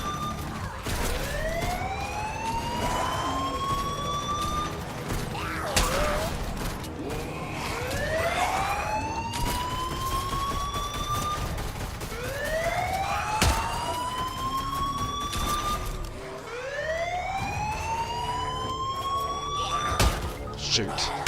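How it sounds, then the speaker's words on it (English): Wailing siren in the Fortnite video game, four rising sweeps repeating steadily about every five seconds, loud and continuous under game background noise. "Trying to turn the bleeding sirens off, dude. They're annoying."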